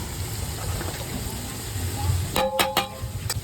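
Garlic fries in hot oil in a pan over a village-style clay stove, giving a steady close sizzle, with a few sharp metallic scraping and stirring clatters near the end.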